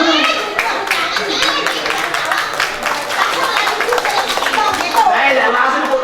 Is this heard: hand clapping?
yes